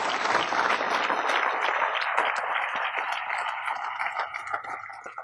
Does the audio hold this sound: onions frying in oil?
no